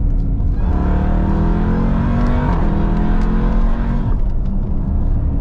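A 2019 Jeep Trackhawk with the 707 hp Hellcat engine accelerates hard from a rolling start, a loud, steady engine roar climbing in pitch with a brief shift dip midway, close and continuous without talk.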